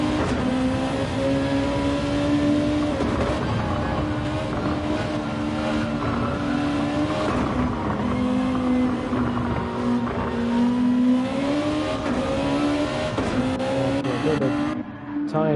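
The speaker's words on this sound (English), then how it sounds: "In the Nissan, although Exion is trying to put it on the outside." Race cars in Gran Turismo 7 during a Nürburgring 24-hour event roar continuously, engines droning and shifting pitch as they battle for position, a dense steady wall of motor noise throughout.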